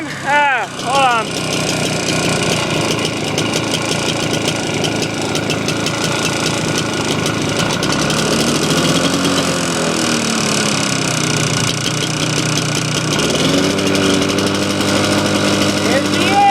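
A lawn tractor engine runs steadily throughout, a loud, rough idle with its pitch shifting as the choke is worked, while a person talks over it now and then.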